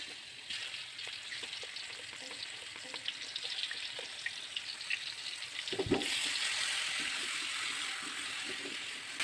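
Spice paste for a shredded tuna pastry filling frying in hot oil, a steady broadband sizzle that swells louder partway through with occasional scraping and stirring knocks, no voices.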